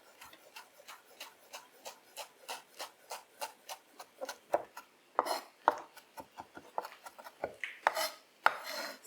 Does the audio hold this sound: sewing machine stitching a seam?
no